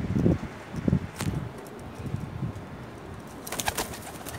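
A pair of Zeera Teddy pigeons coo softly in a quiet enclosure, with low murmuring calls early on, a bit of rustling, and a brighter clatter near the end.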